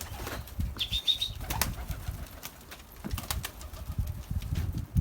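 Pigeons flap their wings in several quick bursts of fluttering, close and loud at moments, with faint cooing and brief bird calls mixed among the rustling in a busy loft.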